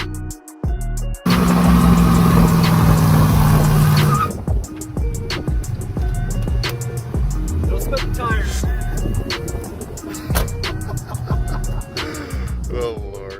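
A Ford Foxbody Mustang's engine roars loudly in a sustained burst for a few seconds, then drops back to a lower running rumble with some clatter over it. No one speaks.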